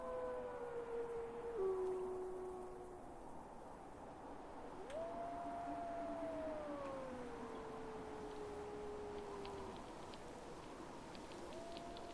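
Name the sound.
wolves howling in the background in the video game Farthest Frontier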